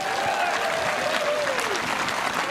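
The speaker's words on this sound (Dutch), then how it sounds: "Maar nog één keer een heel goed applaus voor de size finalisten." An audience gives a warm round of applause for the finalists of the 2018 Frisian dictation contest. The clapping is dense, sustained and fairly loud, with a faint tonal whine drifting across it.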